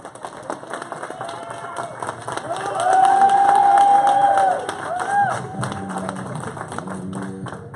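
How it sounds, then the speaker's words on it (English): An audience at a Super Saturday training event applauds and cheers for Mr. Gamble as he returns to the stage, a steady crowd roar that swells loudly for a couple of seconds midway before settling back. "Come on back up, Mr. Gamble. Give him a hand."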